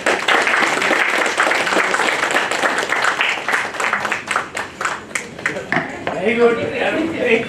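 An audience at a health awareness session claps for someone speaker, with dense applause that thins into scattered individual claps toward the end, and voices talking alongside it.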